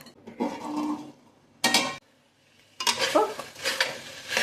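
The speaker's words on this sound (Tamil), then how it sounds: "ஓப்பன் அண்ட் ஸ்டர் இட்" Vegetables, ivy gourd for kovaikai bath, being stirred in a cooking pan after steaming with water, close scraping and sizzling bursts in three short bouts separated by brief near-silences.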